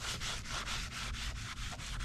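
Rhythmic wet sanding with very fine 8,000-grit paper on a part from a cheap John Deere tractor under rebuild, quick regular back-and-forth rasping strokes, close and steady, with no talk.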